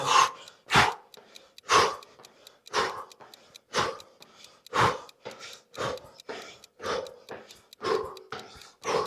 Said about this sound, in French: j'expire à chaque mouvement